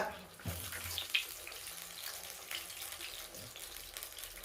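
Coriander vada dropping into hot cooking oil gives a soft, steady frying sizzle and hiss with a small splash at the start, faint and close, with no talk over it.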